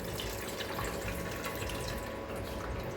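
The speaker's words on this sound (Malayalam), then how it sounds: "നമുക്ക് കുറച്ച് പച്ചവെള്ളം കൂടെ ഒഴിക്കാം." Steady running cold water poured over boiled noodles, like a stream from a tap, continuous and fairly close with no talking.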